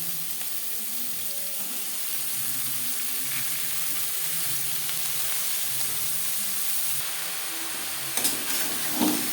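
Bethua greens stir-fry with flat beans and eggplant in a pan, a soft continuous sizzle with faint stirring and a couple of clattering scrapes near the end, no voices.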